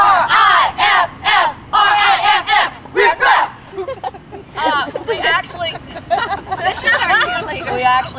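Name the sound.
group of women performing their team cheer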